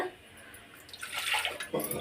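Water splashes and gushes into a cooking pot of chapati kurma for about a second, a close, bright pouring sound with no talking.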